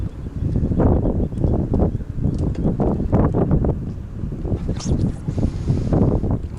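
Strong gusty wind buffets the microphone outdoors at a freshwater crucian carp fishing spot, loud uneven low rumbling surges with no talking.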